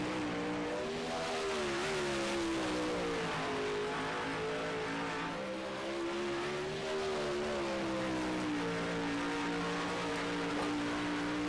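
A 360 sprint car engine in iRacing at Fairbury Speedway drones loud and close throughout, its pitch rising and falling as the throttle works through the turns. No voices are heard over it.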